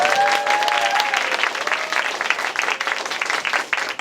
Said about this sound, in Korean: 저 같은 아마추어를 위해서 좀 연주하신 연주자분들께 박수를 드립니다